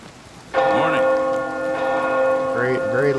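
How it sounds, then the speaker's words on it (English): Heavy church bells toll loudly at a chapel in the video game Oblivion Remastered, rich sustained ringing swelling over steady rain, with a second strike near the end. "Very, very loud bells they have."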